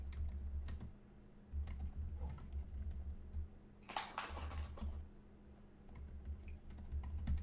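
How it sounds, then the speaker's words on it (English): Steady typing on a computer keyboard clatters close by in uneven bursts of key clicks, with occasional louder clusters of keystrokes over a low hum. "Sorry about all the typing noises."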